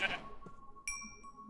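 A sheep in Minecraft lets out a short, nasal bleat right at the start, followed a moment later by a bright, ringing chime-like tone that fades out.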